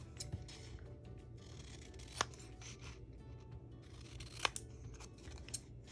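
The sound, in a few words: scissors fussy cutting paper envelopes by hand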